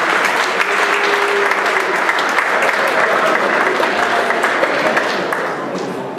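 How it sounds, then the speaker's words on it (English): A sports awards ceremony audience delivers a loud, sustained round of applause, a dense continuous wash of many hands with some crowd voices mixed in, fading slightly at the end. "So let's give them a round of applause."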